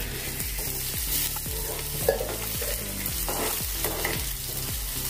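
Green chili and finely chopped onion frying in hot oil with mustard seeds and cumin, a continuous close sizzle with repeated rhythmic stirring scrapes in the pan, no talking.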